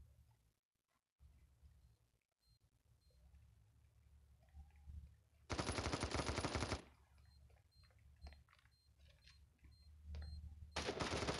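Automatic gunfire bursts in the mobile shooter Standoff 2, with one loud sustained rattle in the middle and another starting at the end, over quieter game ambience.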